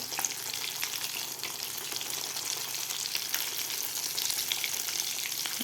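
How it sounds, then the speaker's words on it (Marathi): Potato vadas for fasting deep-fry in hot oil, giving a dense, steady crackling sizzle with faint bubbling, close and continuous without any talk. "चांगले गोल्डन कलर होईपर्यंत आपल्याला हे वडे तळून घ्यायचे आहेत"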